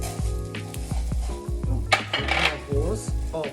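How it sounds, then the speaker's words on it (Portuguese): Rice sautéing in a pan with leek and garlic: a steady sizzle under repeated scrapes and clinks of a spoon stirring against the pan, close up and moderately loud, with no speech. "Vou dar uma refogadinha no meu arroz"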